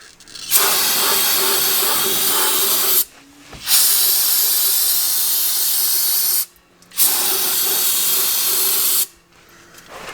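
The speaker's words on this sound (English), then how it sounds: "And then we're going to take brake clean and clean out the inside of the diff." Brake cleaner sprayed into the open differential housing of a Jeep Wrangler, three long, loud aerosol hisses close by, each lasting a few seconds with short pauses between.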